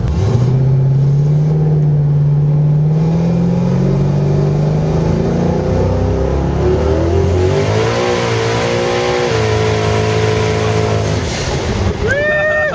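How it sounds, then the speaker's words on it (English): A 1500 HP twin-turbo LS-powered Camaro doing a burnout, its engine roaring loud and close with rising, sustained revs and tire screech throughout, pitch climbing and wavering before a sharper whine near the end. "it just will not stop burning the tires, dude. Damn. Look at that fucking burnout"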